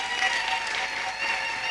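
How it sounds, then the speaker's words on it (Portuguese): Warm applause from a congregation at a spiritual gathering, a brief continuous patter of many hands clapping at moderate volume. "Gostaria de pedir uma calorosa salva de palmas"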